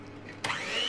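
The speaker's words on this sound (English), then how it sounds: "and on with the hand blender." A hand blender starts up partway through, mixing sponge cake batter of eggs and sugar; a sudden whirring motor rises and holds steady after a short quiet lead-in.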